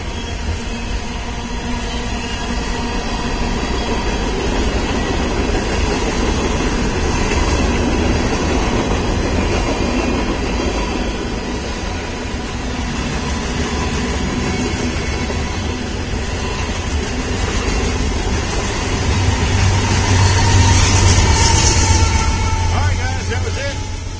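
Intermodal freight train rolling past a porch on a winter morning, a steady broad rumble with wheel and rail noise holding for the whole stretch and swelling slightly near the end, with voices faintly present underneath.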